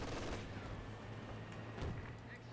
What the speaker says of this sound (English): Half track opening fire on the Grenadiers